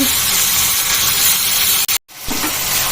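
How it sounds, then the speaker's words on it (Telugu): Onion frying in a tablespoon of oil in a small kadai gives a loud, steady close-up sizzle and hiss, briefly cut off by a gap before the frying noise resumes. "ఈ చిన్న కడాయిలో ఒక టేబుల్ స్పూన్ ఆయిల్ వేసేసుకొని మంచి ఉల్లిపాయ వేసేసుకున్నా"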